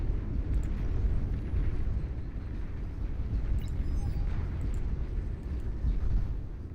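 Torpedo bomber strikes in the strategy game Beyond All Reason produce a continuous deep rumbling wash of explosions, heavy and steady with no clear individual blasts.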